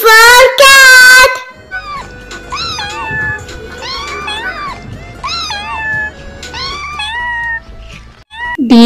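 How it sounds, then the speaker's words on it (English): A cat meows repeatedly, several distinct rising and falling calls spaced a second or so apart, close and clear, with a brief voice at the start and end. "C for cat."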